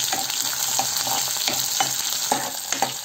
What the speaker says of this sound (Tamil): பூண்டு இது எல்லாமே நம்ம நல்லா கிளறி விட்டுக்கலாம் நல்லா வதங்கட்டும் வெங்காயம் எல்லாமே